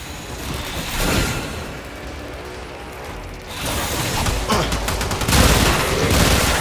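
Rapid bursts of gunfire from the video game Warframe, dense crackling volleys with mechanical clatter, loud and close, swelling again in the last seconds.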